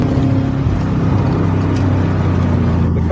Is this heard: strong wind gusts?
no